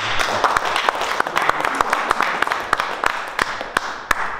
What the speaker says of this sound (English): Okay, then please a big applause for all.